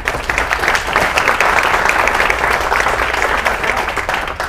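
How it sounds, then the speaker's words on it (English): A crowd at a science and foreign policy panel applauds, with loud, full clapping that holds steady for several seconds without any speech. "Round of applause."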